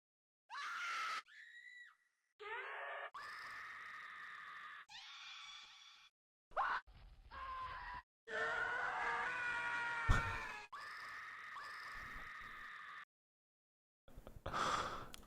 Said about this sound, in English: I could try to add in a little scream for you